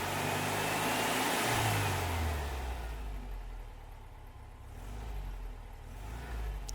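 A Volkswagen engine fitted with an SVDA distributor revs up sharply on the throttle, its pitch rising and then falling back to a steady, settled run held close and loud throughout.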